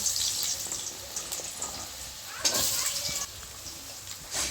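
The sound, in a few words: potatoes frying in oil in a pan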